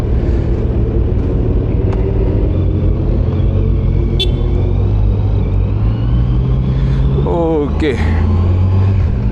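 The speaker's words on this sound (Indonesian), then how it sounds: "Sekarang kita nyalain aja motornya. Halus banget suaranya." A 2025 Kawasaki Z900 SE motorcycle engine idles with a smooth, steady low rumble, then revs briefly as the bike moves off, while a voice talks over it up close.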